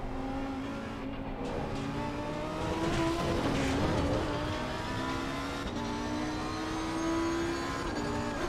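Racing cars in a driving video game, engines whining at high revs with rising and falling pitch as cars pull alongside and pass, loud and continuous with tire noise throughout.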